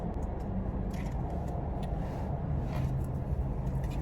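Traffic rumble heard from inside a car on a busy road, a steady low engine and road drone filling the whole stretch with faint passing noise above it and no talking.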